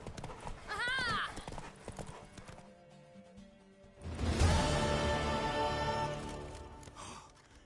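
Horse hooves clip-clop in The Witcher 3 as a mare gallops through a race, rhythmic and close, with a whinny early on and voices calling out over the hoofbeats.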